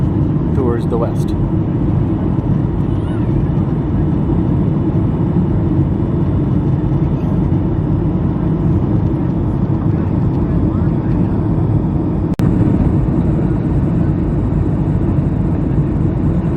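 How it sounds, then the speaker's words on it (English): Steady, loud airliner cabin drone during a flight from Mexico City to Phoenix as the plane banks into a westward turn, a continuous low engine roar filling the whole stretch with a brief click near the end. "The plane's now making a turn towards the west."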